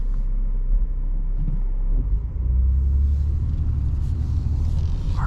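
A 2023 BMW X4 M40i cruises on the road, its engine a deep steady rumble heard from inside the cabin, swelling slightly as it pulls, with no talk over it.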